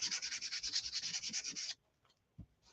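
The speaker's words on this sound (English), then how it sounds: "So I'm going to scuff up a little bit of this side" The smooth black side of a wreath kit form is scuffed up with quick, rapid rubbing strokes, a steady close scratching for about two seconds that stops abruptly, followed by a couple of faint handling knocks.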